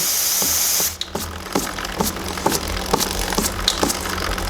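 A short burst of aerosol lubricant hisses and stops, followed by a rhythmic series of soft clicks as a Benelli TNT 135 motorcycle chain is turned by hand.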